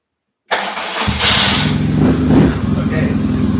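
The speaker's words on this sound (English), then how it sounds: "if you rev the bike, because the shaft is going this way, the bike moves" A motorbike engine fires up after a brief silence, then idles and revs loudly close by, a rough, throbbing mechanical drone that swells and holds.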